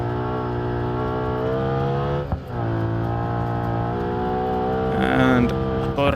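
Car engine in BeamNG Drive labouring in second gear on a gravel Pikes Peak climb, a steady loud harmonic drone that dips briefly then rises in pitch near the end, with a voice talking over it.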